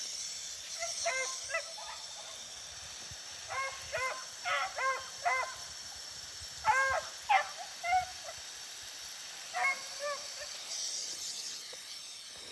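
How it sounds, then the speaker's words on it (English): Several small dogs bark in short clustered bursts of yips, some near and some farther off, with gaps between volleys over a quiet outdoor background. "he tired of them little barking ass dogs"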